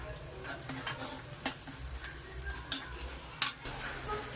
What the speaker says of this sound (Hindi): इतना ये प्याज भुनेगी।